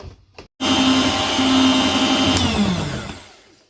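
Electric hand mixer beating chocolate sponge cake batter of egg yolks and soybean oil in a bowl, a loud steady motor whir starting abruptly after a brief pause and running continuously, fading slightly at the end.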